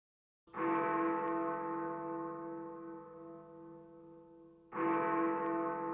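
A single deep bell tolls twice in a song intro, each strike ringing out loud and clear and then decaying slowly with a long, humming sustain.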